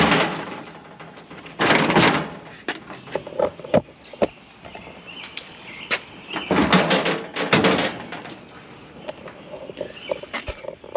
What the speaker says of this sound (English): If I can get this door open without getting stitches.